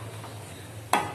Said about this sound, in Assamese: আৰু অলপ অলপকৈ এনেকৈ ভাজি ভাজি গৈ থাকিব